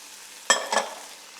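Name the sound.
onion and herbs frying in pan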